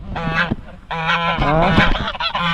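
Several geese honk loudly and close by, overlapping nasal calls in quick bursts with only brief pauses between them.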